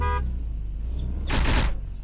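A car horn in a video game gives a brief honk at the very start, followed by a short burst of noise and a thin high tone over a low engine rumble.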